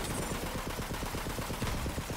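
Rapid video game gunshots rattle in a continuous, evenly paced stream, loud and close, with no talking over them.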